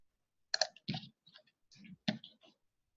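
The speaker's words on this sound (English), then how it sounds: "So right-clicking, new chart, and I'm just going to call this Theo." Computer mouse clicks come in short, sharp bursts, several spaced clicks and taps close by against near silence.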